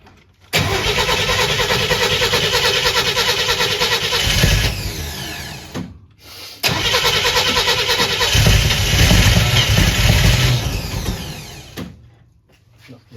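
Engine of a barn-find belly tanker jet mobile car cranked for its first start in two loud, long sustained attempts separated by a brief pause, fading to quiet at the end.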